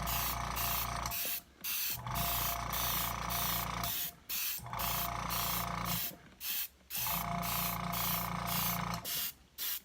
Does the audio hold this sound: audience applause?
no